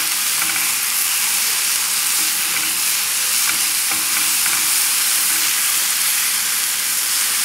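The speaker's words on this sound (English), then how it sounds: "Able to saute the onions and garlic." Hot dogs with onions and garlic sauteing over very high heat, a loud dense continuous sizzle and hiss close up, with faint stirring scrapes now and then.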